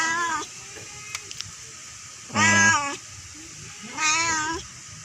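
A hungry cat meows three times, close and clear, with quiet gaps of room noise between the calls.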